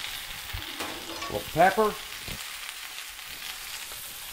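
Spinach wilts in a hot skillet with a soft, steady sizzle, while a voice speaks briefly over the cooking.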